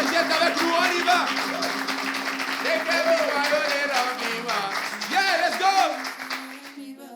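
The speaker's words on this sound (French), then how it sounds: "Mesdames et messieurs, sous vos ovations, s'il vous plaît" An audience welcomes a performer onto the stage with a wash of applause and cheering, while an announcer's voice and music carry over it throughout.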